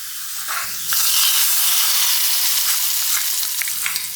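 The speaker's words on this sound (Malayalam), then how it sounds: "ഇനി ഇതാ നമുക്ക് വെളിച്ചെണ്ണയിൽ ചെറിയ ഉള്ളി അത് വഴറ്റിയിടണം" Small onions sauté in hot coconut oil with a loud hissing sizzle that swells after a soft start and holds steady, with light stirring clicks and no talk.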